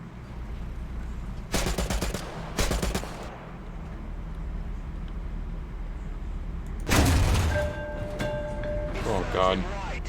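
Tank cannon in War Thunder firing loud, sharp blasts in short clusters, first two near each other, then a longer heavy burst with ringing mechanical tails over steady engine rumble.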